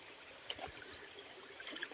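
Faint river water trickles and gurgles softly at low level, with a few small splashy bursts and no voices.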